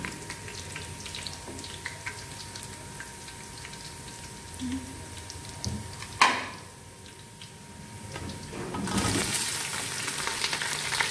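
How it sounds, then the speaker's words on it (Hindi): Onions frying lightly in a pan while a dove dish is cooked, a soft steady sizzle with occasional clinks and stirring, a sharp clatter midway and a louder burst of hissing near the end, no talking. "अभी प्याज हमने फ्राई करने के लिए रख दें, हल्के से लाइट ब्राउन हो जाए"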